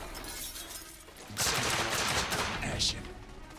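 Enemy shotgun fire in The Order: 1886 during a third-person firefight: a loud, sudden burst of blasts with a sharp shattering edge that rings on for two seconds, followed by a second crack, over faint game ambience.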